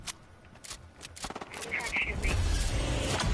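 Gunfire in a Fortnite-style duos video game, a scattered burst of sharp shots aimed at the player that grows denser and louder toward the end, with game sounds and some voice underneath.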